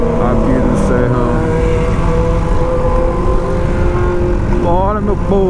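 A BMW 1200 motorcycle engine drones loudly and steadily from up close, climbing in pitch near the end as it accelerates, with speech faintly present under the engine noise.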